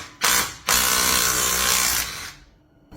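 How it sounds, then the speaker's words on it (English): A wrench works a plug loose from the thermostat housing of a Ford Mustang. There is a short close burst of mechanical grinding, then a longer run, and finally a brief start after a pause. "So we're going to remove that plug and put this guy in."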